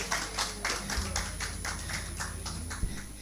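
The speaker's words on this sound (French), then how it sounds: "On applaudit très fort pour Madame Kourouma des Gazelles du CNRD." Crowd at a Tabaski celebration show clapping for a woman called to the stage, steady rhythmic claps heard from a distance and somewhat faint over a low hum.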